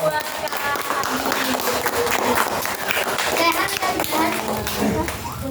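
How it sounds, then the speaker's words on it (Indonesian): Children at a storytelling session clap their hands, the sharp scattered claps mixed with lively kids' chatter and shouting throughout. "Tepuk tangan dulu dong."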